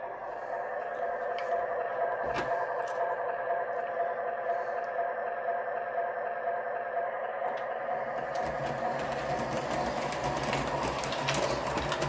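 A Menards F3 model train runs on O27 track under an old 1995 transformer, giving a steady close whirring motor drone with rhythmic clicking over rail joints and a switch, continuous and fairly loud, with no talking.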